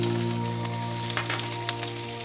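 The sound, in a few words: prawns sizzling in a hot oiled wok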